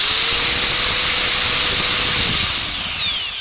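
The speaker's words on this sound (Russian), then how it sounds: "Вот я сейчас запущу болгарку." An angle grinder with a dry, unlubricated gearbox running loud and close, a steady high whine with a slight pitch drift and no speech over it.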